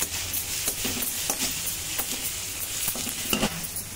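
Chopped tomatoes sizzling in a pan of onion and crushed garlic masala for a prawn curry, a steady close frying hiss with repeated scraping strokes of a spoon stirring throughout.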